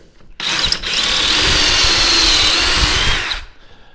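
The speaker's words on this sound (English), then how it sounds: "You're using our pocket hole drill bit that has a pilot hole and creates a square" A power drill with a stepped pocket hole bit bores a pocket hole for a kitchen island face frame, a steady loud whine running about three seconds before spinning down, close and alone.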